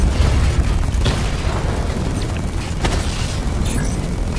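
A destroyed drone explodes in Batman: Arkham Knight, a loud, sustained boom with dense low-end rumble and crackle that rolls on for several seconds amid chaotic combat noise.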